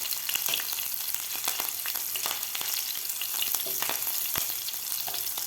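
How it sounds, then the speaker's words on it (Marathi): Green chilies frying with garlic in a pan, giving a steady close sizzle with scattered crackles and pops and occasional stirring clinks throughout. "हिरवी मिरचीसुद्धा आपली व्यवस्थित फ्राय झालेली आहे."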